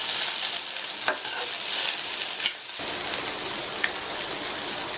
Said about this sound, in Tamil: கடைசி அதில் பொடியாக கட் பண்ண கொத்தமல்லி இலைகள் சேர்த்துட்டு நல்லா ஒரு தடவை மிக்ஸ் பண்ணி விட்டுறலாம்